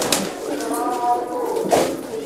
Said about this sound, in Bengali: ধরেন এই যে কালাঙ্খা, এটারে আপনি নাম করেছিলেন